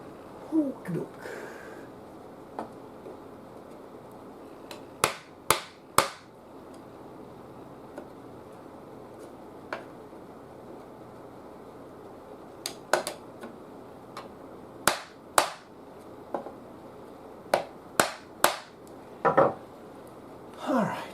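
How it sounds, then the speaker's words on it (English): Sharp metallic hammer taps come in scattered single strikes and quick pairs, close and distinct, over a quiet workshop background during restoration of a 1925 Federal radio. "Hammer."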